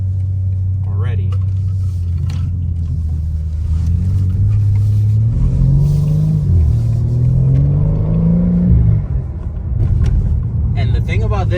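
A BMW G80 M3 accelerates with a deep, close engine rumble that climbs in pitch through several gear rises before easing off, heard from inside the car with people talking over it.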